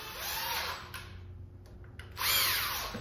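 A power tool, likely an impact driver or drill, runs on bolts during an engine upgrade in a workshop, giving two close, loud whirring bursts separated by a quieter pause.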